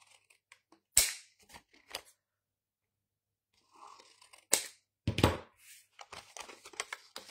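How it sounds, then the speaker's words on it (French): Scissors cutting paper while making an infinite octagonal card, a few crisp snips and crunchy cuts scattered among quiet gaps, close and soft. "Je vais peut-être prendre des ciseaux plus grands."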